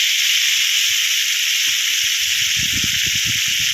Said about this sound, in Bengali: তেলের মধ্যে দিয়ে দেবো কালো জিরা ফোড়ন